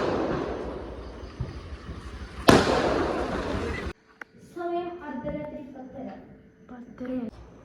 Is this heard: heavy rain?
no